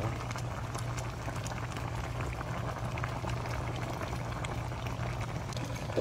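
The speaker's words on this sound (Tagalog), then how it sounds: "Kumukulo na mga idol." A pot of pork stew (lechon paksiw) boils steadily, with continuous bubbling and simmering over a low hum, close by and with no voices.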